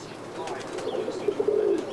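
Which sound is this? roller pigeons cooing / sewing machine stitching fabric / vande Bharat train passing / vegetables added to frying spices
roller pigeons cooing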